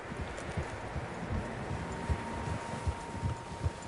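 Several horses walking in Red Dead Redemption 2, a steady clip-clop of hooves over a low outdoor ambience, moderately close without speech.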